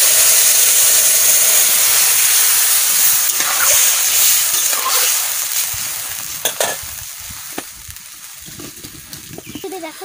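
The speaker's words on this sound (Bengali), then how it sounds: "এবারে আমি জল ঢেলে দিচ্ছি।" Water is poured into a hot pan of frying fish, making a loud, steady sizzle and hiss that fades gradually, with a few faint clinks and stirring sounds near the end.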